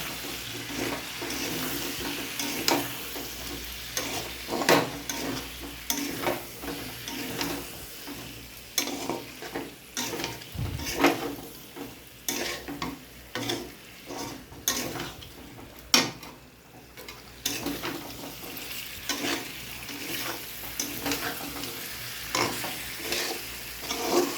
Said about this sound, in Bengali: আলুটাও মাংসের সঙ্গে একটু কষিয়ে নেব, ভাজা আলুটা